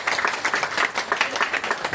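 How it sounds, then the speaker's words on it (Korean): A church congregation applauding during a service, a dense, steady burst of many hands clapping at close range for about two seconds. "한번 박수 올립니다"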